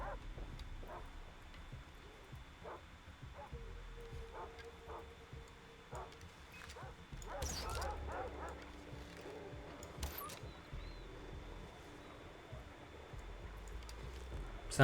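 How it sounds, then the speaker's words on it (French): Dogs bark repeatedly in the Far Cry 3 video game, short yips and barks scattered through a busy game soundscape with a low rumble. "Vas-y, mais il y a des chiens partout."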